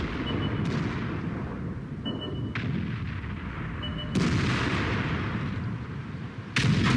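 Tank cannon fire in World of Tanks around a Jagdpanzer E 100 tank destroyer, a loud continuous battle rumble with several sharp booming shots breaking through.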